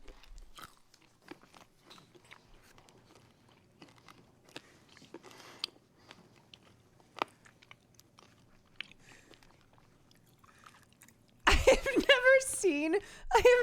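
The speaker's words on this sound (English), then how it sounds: "They're just menacingly crunching tic-tacs and staring into each other's eyes." Two people crunch Tic Tac mints (tropical adventure flavor) at close range, small crisp bites and chewing ticking along quietly before a loud burst of noise near the end.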